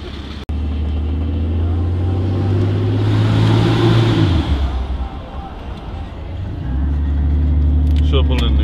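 A pickup truck engine runs in neutral, rumbling close and loud, swelling into a brief rev before settling back to a deep idle, with a sharp knock near the start.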